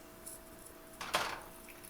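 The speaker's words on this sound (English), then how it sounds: "now I've turned down the flame to low, and I'm going to add in a little bit of water." Water poured into a pan of egg roast gravy over a low flame, a short hissing splash near the middle, loud and close, after faint kitchen clatter.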